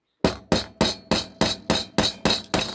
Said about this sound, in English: see if I can just get a very small, like watchmaker screwdriver, bit of a tap of a hammer, and just to see if I can just split it